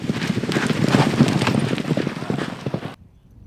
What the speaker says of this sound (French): À Maisons-Laffitte, plusieurs chevaux se pressent sur la piste d'entraînement.